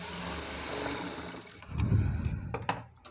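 A sewing machine stitching a dori hanging runs with a mechanical whirr that gives way to a lower rumble and a few sharp clicks near the end, close by.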